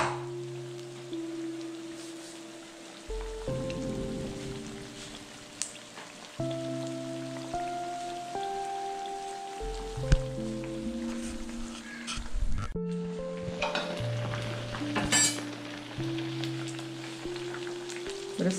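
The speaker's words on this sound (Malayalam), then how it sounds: "ഇത് നമുക്ക് വറുത്ത് എടുക്കാം." Chicken 65 pieces deep frying in hot oil, a steady crackling bubbling hiss with scattered pops that runs throughout at moderate, close range, while steady tonal background sounds hum underneath.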